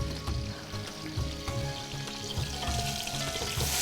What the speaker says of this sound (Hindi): जब तक चिकन को हम फ्राई कर लेते हैं अच्छी तरीके से